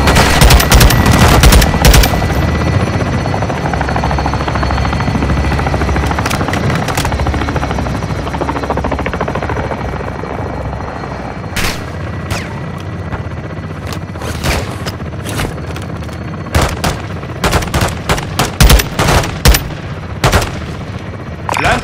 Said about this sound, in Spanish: Disparos realizados.